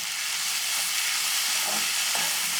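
Ivy gourd stir-fries in a pan with salt and turmeric, a dense steady hiss of sizzling oil heard up close, with a couple of faint stirring scrapes underneath.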